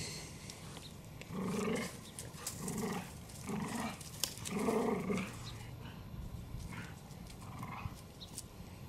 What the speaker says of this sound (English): How to keep two dogs busy? Get them an old stick.